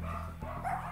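Dogs at a puppy breeding kennel bark and yelp nearby in a short burst, the sound carried over a steady low background hum.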